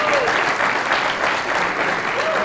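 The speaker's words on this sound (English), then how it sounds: "let's give an extra big round of applause for serving" A big round of applause fills the hall at a hall of fame induction ceremony, with continuous, dense clapping and a few whoops or cheering voices rising above it.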